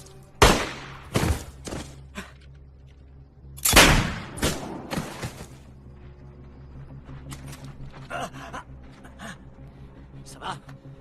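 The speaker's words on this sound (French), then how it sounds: "J'ai entendu les coups de feu." Gunfire in a tense urban standoff scene from a French crime film: several sharp, loud shots in two clusters, followed by scattered fainter cracks and thumps.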